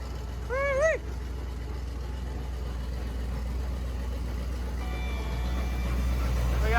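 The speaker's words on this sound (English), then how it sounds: "We got both tires spinning both ways" A turbocharged car engine runs with both rear tires spinning, a steady low rumbling drone that builds slightly toward the end, with a brief whoop or whistle near the start.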